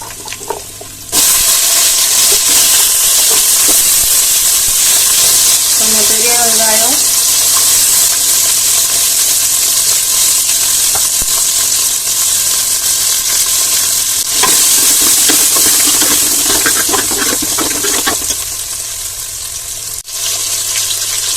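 Shallots and asafoetida frying in hot oil for sambar, a loud, steady sizzle that runs throughout with occasional stirring and scraping in the pan, close up and uninterrupted.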